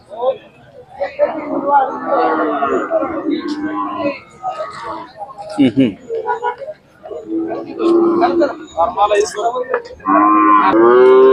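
Khillar cows moo repeatedly, loud and close, at the Sangola cattle market, with people talking in the background between and over the calls.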